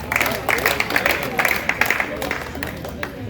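An audience at a youth committee handover ceremony claps in scattered bursts, moderately loud, with murmured voices mixed in before the clapping thins out toward the end.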